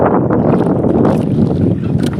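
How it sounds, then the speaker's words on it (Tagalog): Wind blowing hard outdoors near the water beside a boat, a steady broadband rush with buffeting gusts against the microphone, loud throughout with no talk. "Pasensya na nga pala kayo at mahangin."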